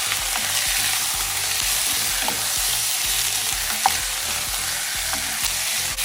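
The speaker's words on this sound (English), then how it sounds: "I'm gonna saute this with the onion and the garlic" Beef stew meat sautés with onion and garlic over medium-high heat, a steady loud sizzle filling the pan with occasional scraping stirs and light clinks, no voices.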